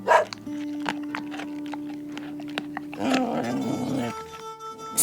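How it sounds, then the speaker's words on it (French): A dog yaps and barks in a few brief, fairly close bursts over a quiet background with a sustained hum. "Ça jappe et ça aboie."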